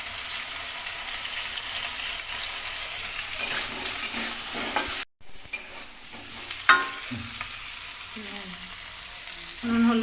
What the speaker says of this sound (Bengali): নুন হলুদ দিয়ে আলুটাকে ভালো করে ভেজে নেব।